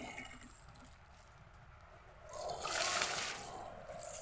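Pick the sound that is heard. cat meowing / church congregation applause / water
water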